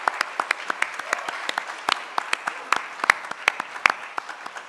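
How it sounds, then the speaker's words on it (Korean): A small church congregation claps for children's ministry teachers, sparse individual claps forming a scattered, uneven patter with distinct sharp hits rather than a dense roar. "round of applause for them."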